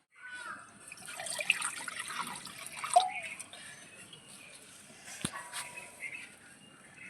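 Water splashes and trickles into a cooking pot while making a watermelon peel recipe, with a few drips and a brief pour, close by and moderately loud, no talking.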